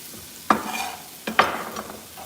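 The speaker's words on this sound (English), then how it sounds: "I'm gonna add all these onions in." Onions tipped into a hot pan, with two sharp stirring scrapes followed by a low sizzle and frying hiss, close and fairly loud, with no talking.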